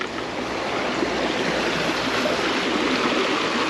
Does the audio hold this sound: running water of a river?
yes